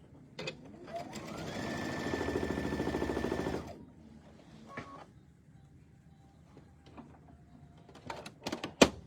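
A sewing machine runs a short burst of stitching with the needle in center position, rising to a steady whirring hum for about two seconds, then stopping, followed by faint handling clicks and taps.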